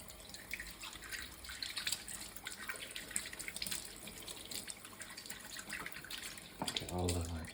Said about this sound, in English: And then just rinse out the portafilter.